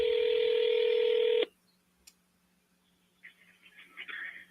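A telephone sounds a steady dialing tone during a call to a property seller, loud and close. It cuts off abruptly and leaves quiet line noise with faint sounds afterward.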